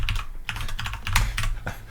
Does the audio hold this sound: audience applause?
no